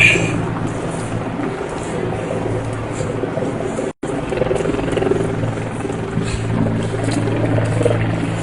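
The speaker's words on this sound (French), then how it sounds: "Hélicoptère." A helicopter's steady rotor rumble and whine fill the air over a street protest in Montreal, loud and continuous, with a brief dropout partway through.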